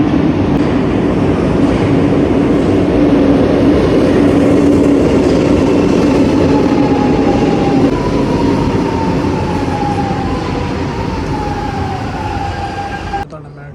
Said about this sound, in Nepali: यताबाट ट्रेन आइरहेको जस्तो लाग्यो है मलाई मेट्रो